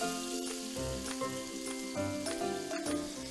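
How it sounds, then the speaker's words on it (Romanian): Onion fries in hot oil in a pot for a vegetarian meatball soup, giving a steady sizzle under prominent background music. "voi pune uleiul într-o oală, aștept să se încălzească și voi adăuga ceapa"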